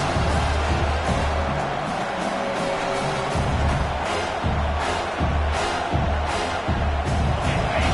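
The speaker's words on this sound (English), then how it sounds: "Big 3rd down as the crowd gets behind this defense." Stadium crowd at a football game roars steadily behind the defense on a big third down, a dense, continuous wash of cheering that fills the whole stretch at high level.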